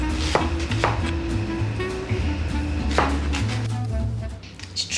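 Onions being chopped on a board for a vegetarian recipe with plant-based lardons, a few sharp knife strikes standing out over busy kitchen background noise, close and fairly loud.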